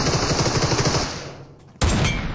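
Automatic gunfire rattles in PUBG Mobile, a loud, rapid burst of shots that fades briefly and then resumes abruptly at full strength, with no voices over it.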